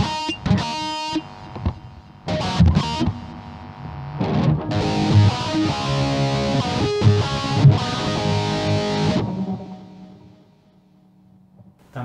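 An electric guitar played through a Zoom G2.1u multi-effect unit with reverb added: plucked notes then sustained, strummed chords ringing with effects, fading into a reverb tail at the end, with no talk.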